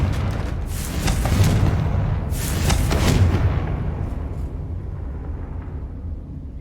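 A Confringo fire spell bursts into a heavy, booming blast in Hogwarts Legacy, with two broad rumbling explosions swelling in quick succession before a long, fading low roar.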